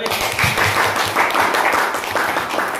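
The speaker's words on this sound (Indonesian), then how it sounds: "Tepuk tangan" Students in a Qur'an Hadith class clap together after a presentation, a steady, fairly close patter of hands with faint voices underneath.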